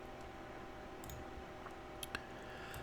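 Two quick, faint mouse clicks on an OK button during a Windows Server 2022 setup, close together near the end over a quiet steady hum of IBM X3650 server fans.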